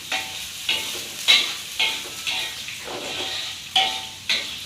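Sambal shrimp ingredients sautéing in a pan make a continuous sizzle, broken by regular stirring scrapes of a utensil against the pan that recur about every half second to second, close and fairly loud.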